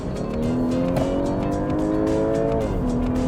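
An Audi A5 Sportback engine revs hard and close in dynamic sport mode, its pitch climbing steadily then dropping as the throttle eases, with a rough, throaty growl throughout.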